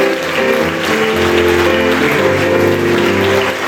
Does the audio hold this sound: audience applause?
yes